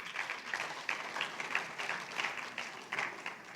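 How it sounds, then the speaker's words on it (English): An audience at a tech conference session in Lagos applauds, a soft, continuous patter of clapping that is fairly faint and even throughout. "I think this deserves another round of applause"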